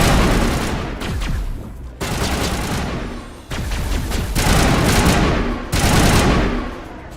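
Loud, close gunfire in the Mass Effect video game, sustained bursts of rapid shots that stop and start four times with short breaks between them.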